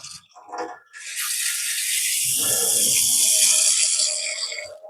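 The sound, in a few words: water running with some air from a newly installed kitchen mixer tap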